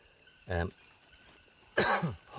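Two short coughs, one quick and muffled, then a second sharper one a moment later, over a faint background of chirping insects.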